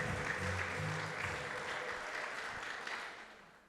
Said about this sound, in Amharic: አመቱ ሲያልቅ የምትስቁ ብቻ አጨብጭቡ እስቲ።